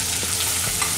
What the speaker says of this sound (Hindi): ये हमें एकदम थोड़ा सा ही ऑयल लेना है, इसमें हम ये प्याज डालेंगे